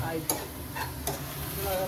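A tempering for drumstick-leaf sambar sizzles in hot oil in a short, close burst, with a couple of sharp clinks from stirring over the steady crackle.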